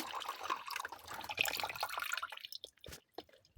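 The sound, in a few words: water fountain running in a Lego water cooling fan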